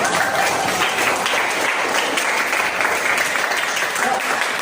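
Schoolchildren in an Islamic religious education class clap together loudly and steadily for several seconds, a close, dense burst of applause filling the room.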